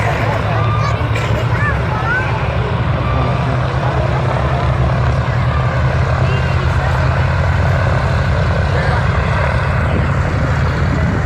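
C-47 World War II transport aircraft with propeller engines, a loud, constant droning rumble that fills the whole stretch, with someone speaking over it.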